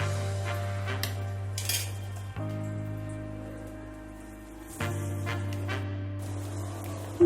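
Moong dal tipped into a pan with fried asafoetida and stirred, giving soft clinks and scraping from a utensil over a steady low kitchen hum.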